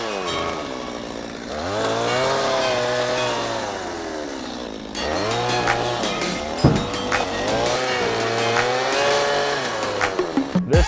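The cheapest Walmart tractor, front wheel lifting, rolls downhill on a steep wooded road while hauling wood. Its engine drones steadily and loudly, its pitch rising and falling, with clunks and knocks toward the end.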